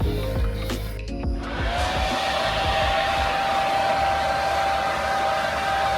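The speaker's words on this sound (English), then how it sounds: "Fans just came on extra loud." Cooling fans on a Ducati Streetfighter V4S fitted with a titanium SC-Project exhaust kick on with a loud, steady whooshing roar and a thin whine, close by and constant, with no one speaking.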